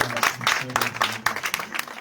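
A slam poetry contest audience claps for itself, rhythmic, somewhat uneven applause from a modest crowd, close and fairly loud, with a voice briefly underneath.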